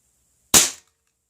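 A single sharp CO2 pellet gun shot cracks out loud and close, fired during a pellet shooting test, with a brief decaying tail and silence before and after.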